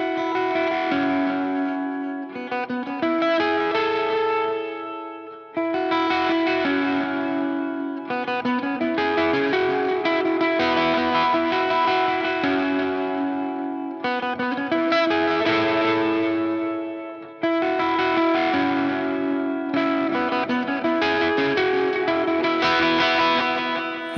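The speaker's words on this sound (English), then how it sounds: "So this is the verse, how it would sound with the delays on." Guitar plays the verse of a song with delay effects, strummed chords ringing into shimmering echoes in repeating phrases with brief breaks, loud and alone without speech.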